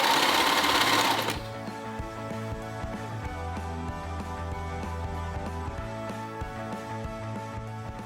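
A sewing machine stitches a ruffle onto the seam of a gathered dress in a steady run of rapid needle clatter, close and continuous after a brief burst of noise at the start.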